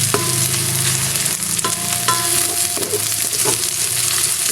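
Onions sautéing in a hot pan until golden brown, with a steady sizzle and frying crackle under repeated scraping and stirring strokes of a utensil, no voices.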